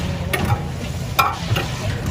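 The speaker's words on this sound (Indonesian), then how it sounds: "kayak gini caranya goreng bola ubi, ditekan-tekan gitu biar hasilnya bagus" Sweet potato balls fry in hot oil at a Taiwan street food stall, a steady close sizzle broken by a few sharp bursts as the balls are pressed and stirred.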